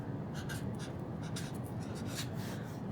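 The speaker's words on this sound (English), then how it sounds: "I'll write it down here." Pen writing down pickleball scores on paper, a close, continuous scratchy scribble with short strokes in quick succession, heard alone without talk.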